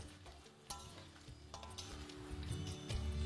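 Cauliflower florets frying in hot oil in a pan over a medium-to-high flame, a steady sizzle with occasional stirring clinks that builds slightly louder toward the end.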